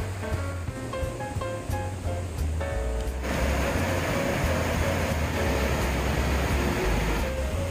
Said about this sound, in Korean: 넓은 너럭바위를 타고 흐르는 물결이 일품입니다